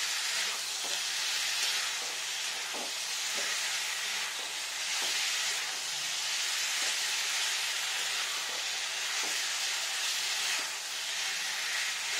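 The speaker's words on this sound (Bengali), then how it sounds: "সুন্দর টমেটোটা ভাজা ভাজা হয়ে যাচ্ছে" Tomatoes fry in a pan for a vegetarian dish of potato and pointed gourd with poppy seed, making a loud, continuous sizzle and crackle. Faint stirring knocks recur now and then, and there is no talk.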